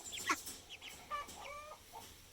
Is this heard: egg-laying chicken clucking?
yes